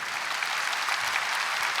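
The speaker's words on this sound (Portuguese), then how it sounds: "Aplauda a Deus, porque ele não guarda na memória." A church congregation claps for God during a Catholic service, dense, even applause from many hands filling the room without pause.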